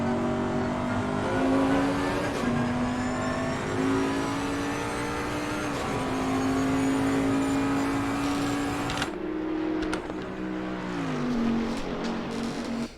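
A Bentley GT3 race car engine in Assetto Corsa Competizione at Mount Panorama, Bathurst: a steady loud drone rises and falls through gear changes and lifts, with a sharp downshift near the end and no talk.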